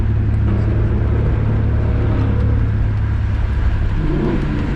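A car on a Las Vegas street revving up to race, a loud, close, rumbling engine that builds steadily with a throaty low drone and a slight rise in pitch near the end, no talking.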